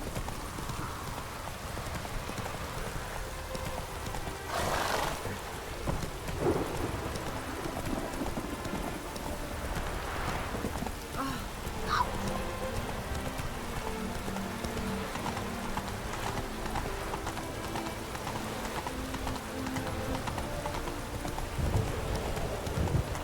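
Roach the horse galloping in The Witcher 3, steady hoofbeat clip-clop rolling along over a bed of falling rain, with brief louder thumps and a faint whinny-like sound partway through.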